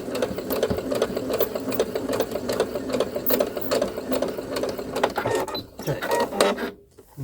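A sewing machine runs steadily while stitching fabric and backstitching in a beginner sewing lesson. The close, even mechanical whir continues for most of the stretch, then stops near the end.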